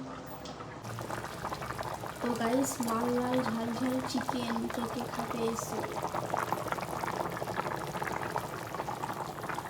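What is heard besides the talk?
chicken curry gravy boiling in pot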